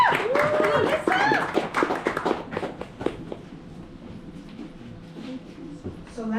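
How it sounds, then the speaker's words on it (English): Audience applause with clapping welcoming a comedian at a live stand-up comedy show, loud and dense at first, then thinning to scattered claps and crowd murmur. "round of applause please for Larisa."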